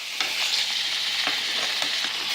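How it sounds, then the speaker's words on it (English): Hot Italian sausage sizzles and crackles steadily in a hot frying pan, with a few soft scraping stirs breaking through the hiss. "and you can hear it sizzling"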